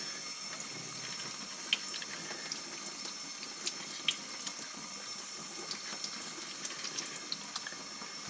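Kitchen tap water running steadily to rinse sprouting seeds in a jar: a continuous close splashing hiss with a few small clinks, no talk.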